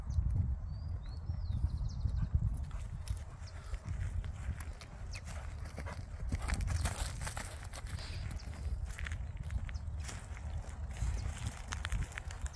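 A horse, a mild-mannered overo azulejo criollo cross, is led at a walk into a paddock, its hooves clip-clopping steadily against a low, continuous rumble of outdoor background noise.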